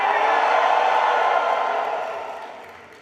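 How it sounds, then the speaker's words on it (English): A large graduation ceremony crowd gives a massive cheer for the class of 2024, a broad, loud roar of voices that holds steady and then slowly fades away. "all of you together, a massive cheer for the class of 2024"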